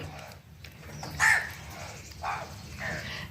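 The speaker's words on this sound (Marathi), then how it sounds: "किती कावळे येतं ते इथं" Several crows caw nearby in short harsh bursts over a steady background of insect chirping, with faint speech now and then.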